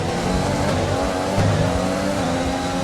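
A Formula 1 race car in the F1 2020 video game roars continuously at high revs, with a dense, loud engine note and hints of tire squeal, and no voices.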